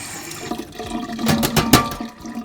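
Water running over an aluminium gutter guard mesh, a splashing, gurgling trickle with brief louder gushes in the middle, close and alone.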